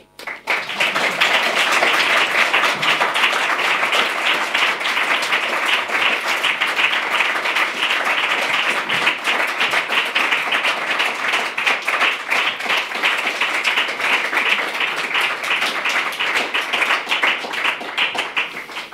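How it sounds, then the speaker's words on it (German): Audience clapping after a speech at an academic lecture event, a long, dense and loud round of applause from a large crowd that holds steady and unbroken throughout. "Vielen Dank für den Applaus."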